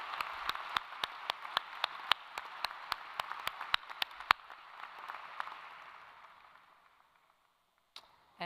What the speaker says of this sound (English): Now let's clap for everybody who's done these exceptional work.